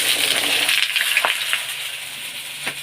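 Potatoes frying in hot oil in a wok, a steady broadband sizzle with a few brief stirring scrapes, close and continuous with no talk.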